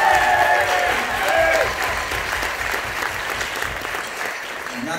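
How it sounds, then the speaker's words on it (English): Audience applause at a music school teachers' event, a sustained broad clapping wash from a crowd, with a voice speaking and some cheering layered over the start before the clapping continues steadily. "Let's give Nate a big round of"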